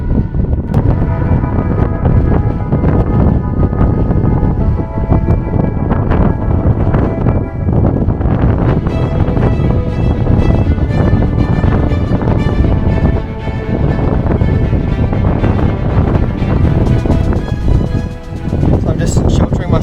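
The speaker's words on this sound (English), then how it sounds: "I'm nearly there, but it's so windy." Strong wind buffets the microphone during a snowy mountain climb on the Overland Track in Tasmania, a loud continuous roar and rush throughout, with a voice talking over it.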